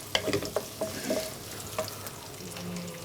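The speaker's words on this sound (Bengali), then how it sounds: "তাহলে আমি নাড়তে থাকি" Ginger and garlic paste stirred in a cooking pan, giving a steady sizzle of frying broken by irregular scraping taps of the utensil, close and continuous with no talk.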